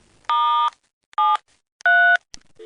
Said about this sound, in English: That's the sound of disconnection.